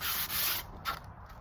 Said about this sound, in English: the easiest way to do it is by sanding